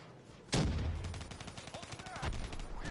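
Video game turrets open fire with a sharp loud crack, then a rapid run of rattling shots, another burst following a moment later, with no talking over it.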